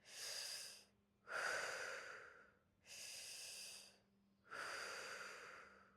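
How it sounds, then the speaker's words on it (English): Three big mouth breaths during a fascia class, alternating long airy inhales and exhales in a steady, slow rhythm, close and clear with no talking. "Now look up towards the sky and begin with 3 big mouth breaths"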